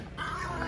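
Small dog whimpering and growling at a spa grooming session, a faint, thin whine and low grumble over steady background noise, no speech.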